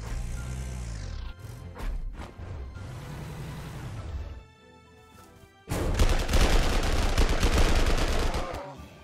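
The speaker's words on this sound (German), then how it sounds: "also schickt mal die Artillerie hier runter." Artillery fire in the strategy game Panzer Corps 2, a loud dense burst of blasts and crackling impacts after a quieter stretch of earlier booms and rumbles, with no talking.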